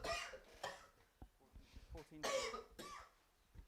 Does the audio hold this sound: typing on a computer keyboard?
no